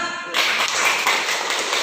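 Applause from a classroom group during a peer-teaching session, starting abruptly and continuing as a dense, steady patter of many hands clapping, close and fairly loud, with no talk.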